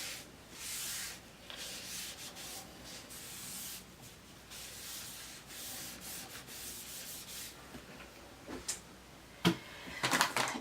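Excess chalk being wiped off a transfer with a wipe, making steady close scrubbing and rubbing strokes that run continuously and end in a few sharper scuffs and knocks, with no voices.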